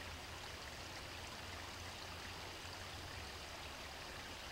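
A river in Saw Creek, Pelham, rushes steadily around someone wading across, a dense, constant roar of flowing water that is loud and close, with no voices over it.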